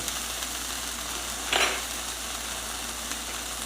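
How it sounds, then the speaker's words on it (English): Breaded cubed pork steak sears in ghee in a pan, giving a steady close sizzle with a short louder crackle midway. "You just want to sear it a little bit."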